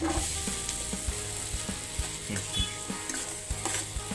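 Chopped onions frying in a pan, a continuous sizzle broken by regular rattling spatula strokes and clacks against the metal, close and fairly quiet, no talking.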